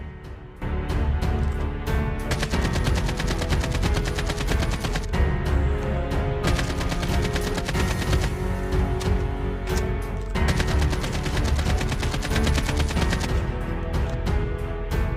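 Weapon fire and recoil in Call of Duty Mobile battle royale: loud, sustained automatic bursts that run almost without pause, broken only by brief gaps, with no talking.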